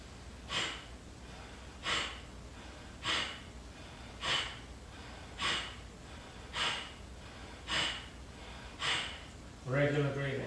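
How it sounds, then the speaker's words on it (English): Nine sharp, forceful exhales from an energizing yoga breathing exercise, evenly spaced about one per second, each a short breathy burst, close and clear, with a brief bit of talk starting right at the end. "we do a sharp exhale, and as you exhale you pull in that belly in"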